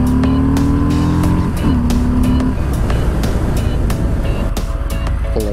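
A 2018 Harley-Davidson Fat Bob FXFB motorcycle being ridden, its V-twin engine loud and close with a steady throbbing rumble, shifting pitch as it revs and settles, with no talk.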